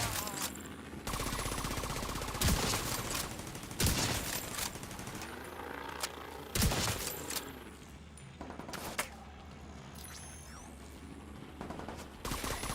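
Rapid automatic gunfire and scattered pistol shots in the video game The Division, loud bursts and sharp single cracks repeating throughout with brief gaps between volleys.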